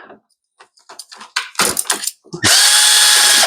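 A ratchet breaks loose the carburetor on a commercial Briggs & Stratton engine fitted to a TB360 tiller: a few quick clicks at first, then a loud, steady, close mechanical whir to the end.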